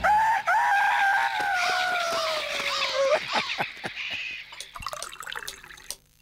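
A rooster crows once, loud and close, a long drawn-out call followed by clucking and a few sharp knocks.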